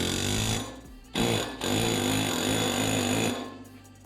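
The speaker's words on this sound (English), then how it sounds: "So I've put it in the air hammer" Pneumatic air hammer working on a driveshaft coupler in a workshop, loud continuous rapid hammering in two bursts broken by a brief pause, close and without talk.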